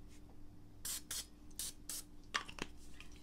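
Cooking pan spray hisses from an aerosol can onto pastry dough for a Danish in several short, close bursts separated by brief pauses.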